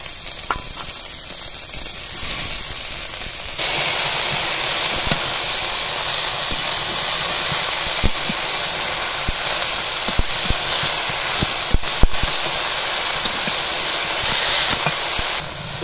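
Water spinach (kolmi shak) frying in a pan with onion, chopped garlic and green chilli gives a loud, steady close-up sizzle and hiss that swells when the greens go in, then stays constant with occasional pops and no talk.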